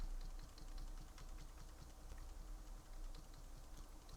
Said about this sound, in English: This is making me wonder if the keyboard is even working right now.